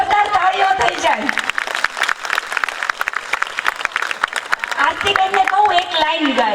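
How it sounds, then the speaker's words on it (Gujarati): Loud audience applause at a garba performance during Sharad Purnima celebrations at Umiya Sansthan, Gandhinagar: dense, continuous clapping throughout, with voices and sung tones carrying over it. "જોરદાર તાળીઓ થઈ જાય."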